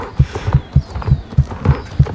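Horse walking in a video game, hooves clip-clopping in an even rhythm of about three steps per second, close and clear with no talking.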